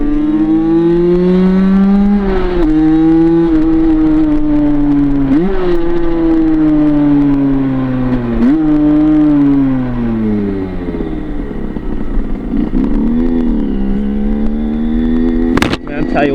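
A Derbi Senda 50cc motorcycle revs hard while riding, its buzzy two-stroke whine climbing, dropping sharply at each gear shift and climbing again, loud and close throughout.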